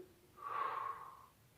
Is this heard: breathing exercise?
yes